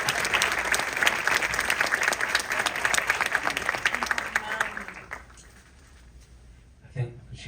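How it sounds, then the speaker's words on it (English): A film Q&A audience gives a big round of applause, dense clapping that rolls on for about five seconds before fading out, followed by quiet and a brief voice. "we should give her a huge round of applause"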